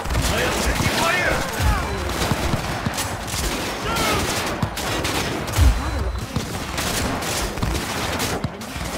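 Sustained gunfire fills a firefight in Cyberpunk 2077, with rapid bursts and repeated shots over a dense, loud game soundscape and heavy low booms at a couple of moments.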